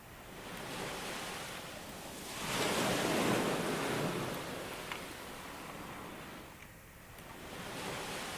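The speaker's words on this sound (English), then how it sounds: "Sea sounds so actually coming up ashore there." Sea waves wash up onto a beach in the World War II shooter Easy Red 2, a steady broadband surf that swells into a louder breaking surge midway and then recedes, heard alone without voices.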